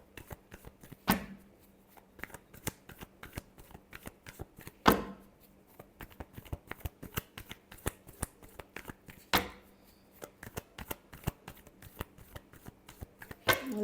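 Tarot cards are shuffled by hand in close, crisp riffles and slaps, a rapid ragged run of papery flicks with a few louder snaps spread across the whole stretch, no voices.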